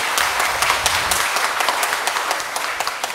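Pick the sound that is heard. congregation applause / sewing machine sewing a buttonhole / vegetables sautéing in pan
congregation applause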